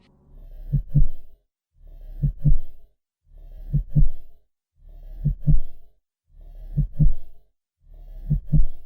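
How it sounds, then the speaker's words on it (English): Heartbeat sound effect, six slow, deep double thumps in a steady rhythm, each lub-dub pair separated by silence, loud and close with nothing else heard. "could hear his heartbeat."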